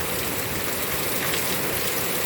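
Heavy rain pours straight down with no wind, a dense, loud and unbroken wash of drops over a garden, with no voices.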